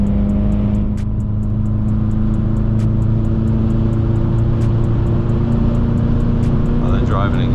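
Rally cars roll off at Maple Grove Raceway with a steady, close engine drone and a low hum, and light chatter runs underneath.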